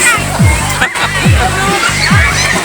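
People bathe in a deep well, scooping and pouring water in repeated heavy splashes and sloshes at a steady rhythm, close by, while voices talk over the splashing.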